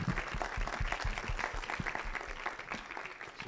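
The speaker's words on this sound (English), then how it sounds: "Big applause for team number 3" An indoor audience at a design and engineering education conference gives a burst of steady applause for a presenting team, dense clapping filling the room and staying even throughout.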